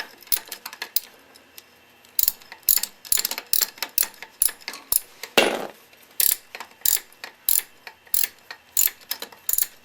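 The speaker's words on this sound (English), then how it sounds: "Loosen this guy up." A ratchet clicks rapidly and close at hand while loosening a motorcycle cylinder head bolt, crisp repeated pawl ticks in quick bursts with a brief rough scrape midway.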